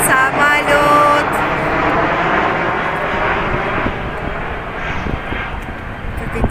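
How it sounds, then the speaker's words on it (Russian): An airplane passing overhead near Antalya, a loud, steady engine roar that fades slowly, with voices faintly underneath. "Самолет, самолет."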